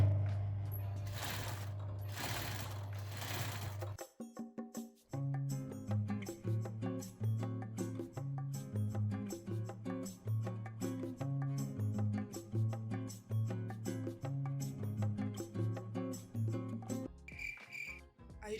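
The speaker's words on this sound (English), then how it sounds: "And now we sew." Sewing machine stitching a dress lining: a brief whirring start and stop, then a long run of fast, even mechanical clicking and thumping stitches up close, ending with a short pause.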